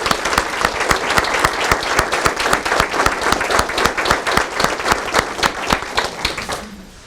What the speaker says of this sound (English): maybe we can all give them a round of applause for their work